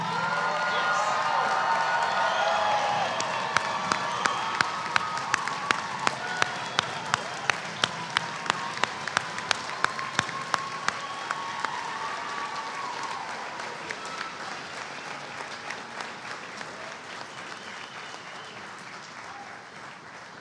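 A graduation audience applauds the class of 2021: sustained, dense clapping from a large crowd with scattered cheers and a few sharp loud claps, gradually thinning and fading over about twenty seconds.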